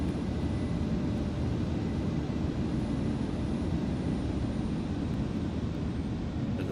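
An Airbus A320's number 1 engine spooling up in Microsoft Flight Simulator 2024, heard as a steady, loud, broad jet roar and rumble that holds evenly throughout with no talking.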